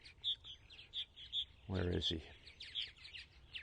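Purple martins chirping around a backyard martin house on eastern Long Island on a July morning, repeated bright short tweets at moderate distance, with a voice briefly speaking over them.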